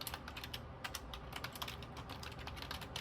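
Label text is typed on a computer keyboard for a Dymo LabelWriter 550, a fast, steady run of close, soft key clicks with no talking.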